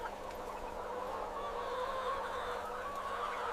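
A dense crowd of broiler chickens clucking and chattering inside a poultry farm shed, a steady murmur of many birds at moderate distance over a low constant hum.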